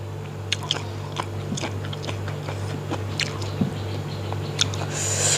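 Crispy squid in a mixed spicy Thai papaya salad is chewed up close, with soft crunching bites and wet squishes repeating in an irregular rhythm.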